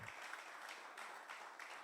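Congregation applauding at an evening church service for couples: steady, faint, distant clapping in a few surging waves, with no voices.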